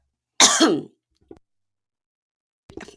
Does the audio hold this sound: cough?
yes